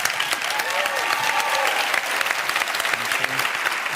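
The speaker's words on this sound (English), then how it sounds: "stand up and cheer for her right now." A television talk-show studio audience applauding and cheering, a dense, loud, sustained burst of clapping with a few whoops and voices mixed in.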